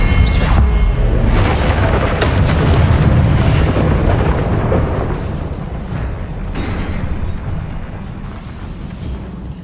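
A Confringo blasting spell explodes in Hogwarts Legacy, a loud fiery boom with crackling debris that rolls out into a long rumbling decay.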